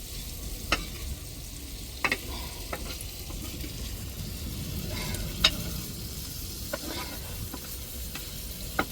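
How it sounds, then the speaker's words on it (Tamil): Squid rings fry and are stirred in oil on a griddle, with a steady close sizzle broken by sharp scrapes and clicks of the utensil. "கணவாயை அள்ளி நல்லா எண்ணெயில் இப்படி பிரட்டி விடணும்"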